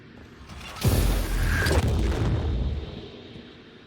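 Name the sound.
turret exploding in video game Prey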